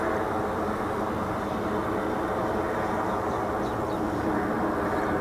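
Freewing Rebel V2 RC jet at full throttle on a 5S battery, passing overhead with flaps and gear up: a steady, loud, dense whooshing roar that holds unbroken for several seconds.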